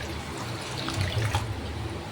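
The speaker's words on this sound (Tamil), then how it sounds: "இந்த சர்க்கரை மூழ்கிற அளவுக்கு நம்ம தண்ணி ஊற்றிக்கலாம்" Water is poured over sugar in a cooking vessel to make Mysore pak, giving a continuous close splashing trickle that swells briefly toward the middle.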